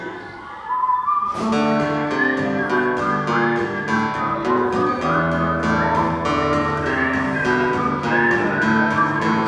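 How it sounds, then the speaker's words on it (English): A bright, tuneful whistled melody played over a full instrumental backing, continuous and loud from the start after a brief quiet lead-in. "One of the greatest whistling songs in all of American history."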